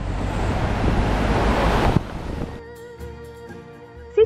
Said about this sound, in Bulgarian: Добре, че вее вятър.